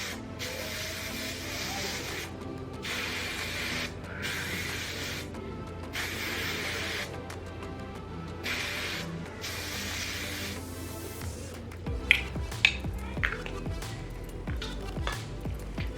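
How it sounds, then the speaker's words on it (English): Hairspray misted onto long hair styled in a messy bun, a series of short hissing spray bursts separated by pauses, close and soft, followed by faint rustling and light clicks. "now we're gonna do a little more hairspray"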